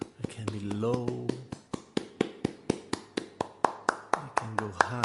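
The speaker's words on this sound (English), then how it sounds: "the sound of your claps" Hands clapping in a steady, bright rhythm up close, with sung or hummed voice tones heard under the claps at the start and again near the end.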